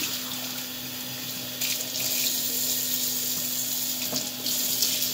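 Water runs steadily from a kitchen tap while cupcake batter is being prepared, a constant close hiss with slight surges partway through and no talking.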